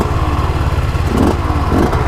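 A Kawasaki Ninja 250 converted into a dirt bike, ridden across open desert, gives a loud, steady, close engine drone with a brief rise in revs and some mechanical clatter.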